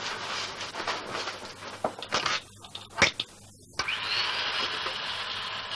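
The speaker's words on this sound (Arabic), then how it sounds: "شوف هتسمعي صوت الشنيور ولا لا" An electric drill whirs in several short bursts with brief pauses, then settles into a steady higher-pitched run, heard fairly close and loud over a faint background hum.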